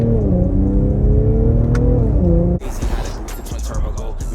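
A tuned Infiniti Q50S engine revs up from inside the car, a loud steady drone that rises and then cuts off sharply. Rougher, broadband road and exhaust noise follows, and someone talks during it.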